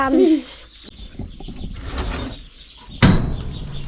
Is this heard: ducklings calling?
yes